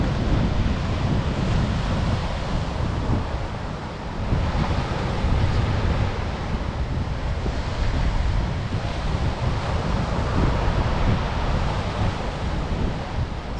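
Steady, broad rush of surf rolling onto an empty, quiet beach on Assateague Island, with continuous wave wash and some wind buffeting close to the microphone, no voices.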